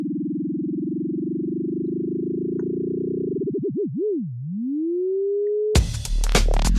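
A synthesizer tone wobbles under an LFO whose rate speeds up into a fast flutter, then drops into a slow swoop before settling into a steady pitch. A sudden harsh, noisy burst follows at the end.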